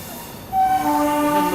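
Twin engines haul a Rajdhani Express train as it picks up speed, with a sudden rise in rumble followed by steady, sustained horn-like tones ringing out close by.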